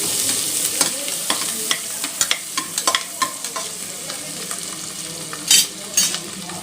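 Soft sizzling of garlic and ginger sautéing in butter in a pan, under repeated light clicks and scrapes of a spoon stirring, with a couple of louder scrapes near the end.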